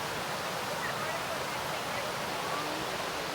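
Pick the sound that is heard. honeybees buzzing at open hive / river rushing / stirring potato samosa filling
river rushing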